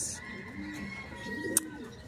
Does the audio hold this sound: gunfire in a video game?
no